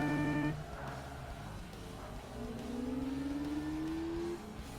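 Lotus Exige engine in the racing game Forza Motorsport, its tone climbing steadily as it revs up through a gear, heard up close and alone, with a brief tonal beep near the start.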